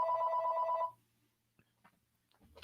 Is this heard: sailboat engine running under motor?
no